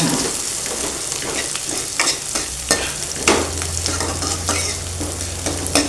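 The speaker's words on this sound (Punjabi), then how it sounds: "ਤੇ ਪਿਆਜ਼ ਆਪਾਂ ਚੰਗੀ ਤਰ੍ਹਾਂ ਭੁੰਨ ਲੈਣੇ ਨੇ" Onions fry in hot oil in a pan for a Punjabi pumpkin curry, a steady sizzle broken by repeated scraping and clinking as a spoon stirs them, close and alone without talk.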